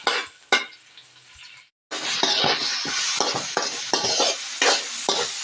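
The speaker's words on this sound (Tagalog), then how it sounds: "Gisa natin ang sibuyas." Onion sautés in a pan for corned beef sinigang, a loud sizzle broken by a brief silence, then rhythmic stirring scrapes over steady frying.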